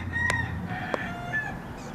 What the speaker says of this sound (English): Actually, that sounds like a rooster.